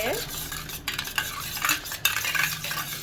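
A spoon beats eggs in a bowl for an omelette, making quick rhythmic clinking and scraping strokes, close and fairly loud, with no talking.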